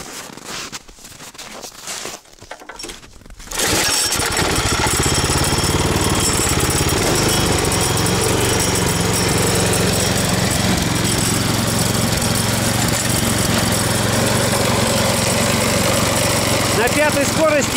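A snow blower's engine catches after a few seconds of quieter handling noise, then runs at a steady, loud, droning pitch close by for the rest of the stretch while snow is being cleared.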